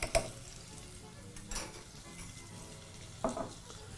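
Garlic, ginger and tomato paste sizzle in a pot for Kenyan vegetable pilau, a soft steady frying hiss with a few sharp scraping stirs of the spoon against the pan.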